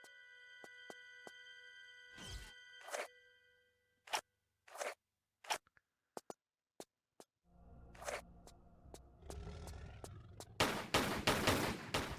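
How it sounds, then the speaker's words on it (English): Pistol shots in the Tomb Raider custom level Beyond the Labyrinth: sharp, loud single cracks spaced apart, then a dense burst of rapid fire near the end. "Get out the pistols and shoot some lines."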